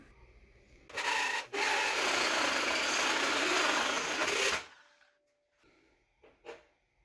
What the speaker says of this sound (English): So now just go ahead and drill this out.